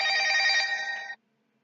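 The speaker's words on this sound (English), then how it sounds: "that was my Obama phone ringing like that" A mobile phone rings in a steady, fairly loud electronic ring for about a second, then cuts off abruptly into silence, heard alone with no talk.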